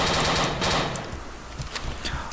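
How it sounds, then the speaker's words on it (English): Modded gunfire from the dinosaur shooter Dino D-Day, with rapid bursts of shots loud up front that thin into scattered, fainter reports toward the end. "I have different gun sounds for this game, I think. And so what you're hearing might not be the actual gun sounds"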